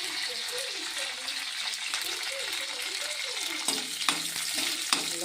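Green chillies splutter in hot oil while tempering for a ridge gourd chutney: a loud, steady, close-up sizzle with scattered sharp pops near the end.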